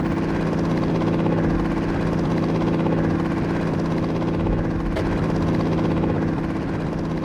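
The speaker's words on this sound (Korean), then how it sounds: "멀리 날아가는 헬기" A helicopter in a video game drones steadily with a heavy, throbbing rotor and engine hum that stays loud and constant, with no talking.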